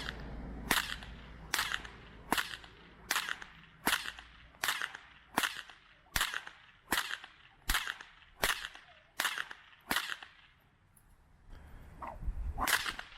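A whip cracks again and again in a steady rhythm, about a dozen sharp, close snaps at regular intervals, each with a brief whoosh, then a short pause before two more cracks.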